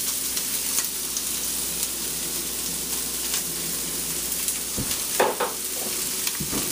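Onion, garlic and peppers sizzling in a frying pan, a steady crackling hiss throughout with a few louder stirring clatters near the end, close and without talk.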